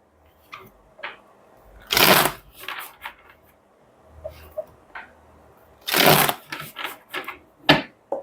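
A tarot deck is shuffled in two loud, riffling bursts, with softer card taps and flicks in between, close and with no one talking.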